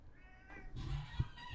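A fat house cat meows indoors, several close, clear calls with a low rumbling purr-like undertone, rising and falling over a short stretch.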